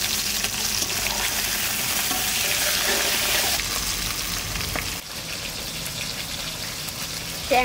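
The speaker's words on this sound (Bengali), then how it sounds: "এবার আমি মাছ ভাজবো। ট্যাংরা মাছ ভাজার জন্য কড়াইতে তেল দিয়ে দেবো।" Tangra fish frying in hot oil in a kadai, a steady loud sizzle and crackle close by, with a brief rustle or clatter of handling midway and a small knock at the end.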